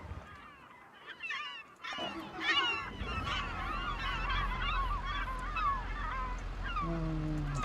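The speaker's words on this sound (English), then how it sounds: "the seagulls are following." Flock of seagulls calling over a tractor working a field in Farming Simulator 25 on a Carpathian countryside farm; many overlapping shrill squawks swell from near silence into a dense, continuous chorus over a low engine rumble.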